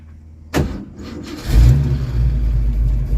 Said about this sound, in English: Let's see if this thing will crank back up and start and do car things.